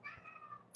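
A house cat gives one drawn-out, quiet meow close by, its tone holding steady for most of a second, with no talk over it.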